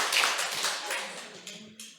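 A church congregation during a Sunday sermon gives a brief patter of scattered clapping that fades quickly, with a voice speaking over the tail.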